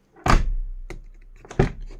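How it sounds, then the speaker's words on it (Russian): A Lexus LX470 door with partly finished sound-deadening shuts twice, a solid thunk followed by a second, slightly softer closing thump after a pause. "Ну и, короче, как теперь закрывается дверь?"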